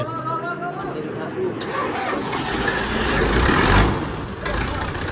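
A diesel tractor engine cranks and catches, settling into a loud, rough rumble that swells briefly before holding a steady running chug up close.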